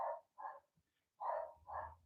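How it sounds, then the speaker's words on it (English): A dog barks four times in two pairs, short muffled woofs with a brief gap between pairs, moderately distant and indoors. "My dog started barking."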